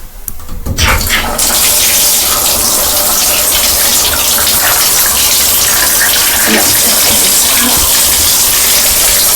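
Hot water gushing steadily from a tap, loud and close, a continuous broadband rush that starts abruptly after a brief quiet moment and runs unbroken to the end.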